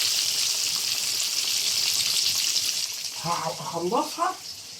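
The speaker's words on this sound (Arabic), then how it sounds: "هخلصها واقليها واطلعها واوريها لكم" Kentucky-style fried chicken sizzling in hot oil, a steady bright hiss throughout, with a brief burst of clattering or stirring noise near the end.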